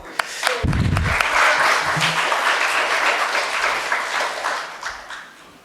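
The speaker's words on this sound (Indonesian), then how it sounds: "Ini Nathan, tepuk tangan teman-teman" An audience at an Indonesian student forum applauds to welcome a speaker from Papua. The clapping is loud and steady and lasts the whole stretch, with a few dull thumps near the start.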